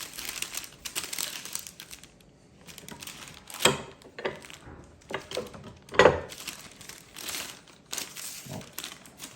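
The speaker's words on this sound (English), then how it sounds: "The reason we're using the parchment paper is so that it doesn't stick to the press." Parchment paper crinkling and rustling in a tortilla press while making homemade corn tortillas, with scattered crackles, two sharper crunches and a soft ongoing crinkle throughout.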